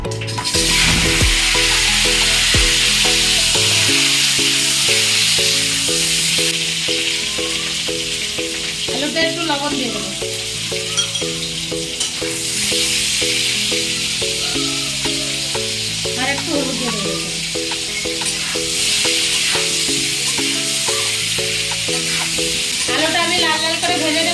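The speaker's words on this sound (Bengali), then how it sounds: "তেলটা আমার গরম হয়ে গেছে দেখুন আলুগুলো দিয়ে দেবো" Potatoes fry in hot oil with a loud, continuous sizzle and bubbling that lasts throughout, alongside steady background music.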